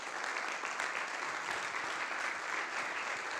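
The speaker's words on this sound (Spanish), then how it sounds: "es momento de darle un fuerte aplauso a Antonio" An audience applauds after an architecture lecture, dense steady clapping from many hands filling the room without a break.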